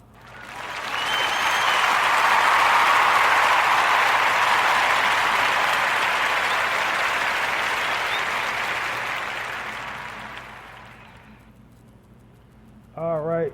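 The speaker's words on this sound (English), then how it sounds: "let's clap it up for him one more time" Audience applause on a podcast, a swelling burst of many hands clapping that holds steady then fades away, with a brief sound at the end.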